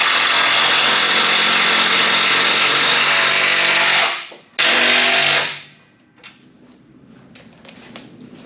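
A power drill drives old reused timber screws into shed framing, with a loud, steady motor whine for about four seconds, a brief stop, then a shorter second burst before it winds down to quiet background noise.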